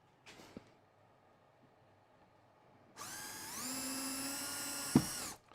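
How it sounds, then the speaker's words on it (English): A small electric drill fitted with a 3mm bit starts up after a quiet pause and whines steadily for a couple of seconds while boring a hole, with one sharp knock near the end. "Drill some holes."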